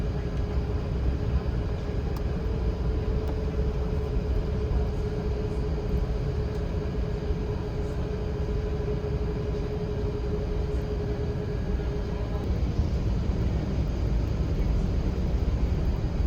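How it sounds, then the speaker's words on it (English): Emirates airliner taxiing, heard from inside the business class suite cabin: a steady low engine rumble and airflow hum with a faint tonal whine, constant and unbroken for the full duration. "We ended up taxiing for quite some time"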